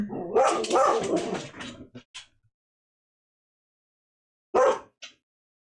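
A pet dog named Maisie barks and yaps in a quick burst of several loud, close barks, then a short pause and two more yips.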